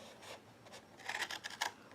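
Scissors cut a paper gift box along its score lines, giving a few soft snipping and rubbing bursts that cluster near the end of a quiet stretch, with no talking.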